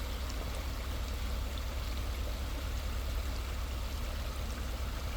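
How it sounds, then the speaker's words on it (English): Steady rushing water flows continuously, a broad even burble like a creek running close by, with no voices. "I love the sound of water."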